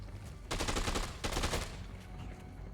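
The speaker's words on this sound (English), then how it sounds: "Oh yeah, they throw grenades." Grenade blasts in the video game Dead Rising 2, two loud broad bursts in quick succession with crackling debris, over a steady game background and no talk.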